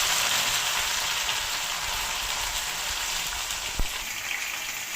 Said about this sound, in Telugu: ఈ కాకరకాయ ముక్కల్ని ఆయిల్లో ఇలాగ వేసేస్తాము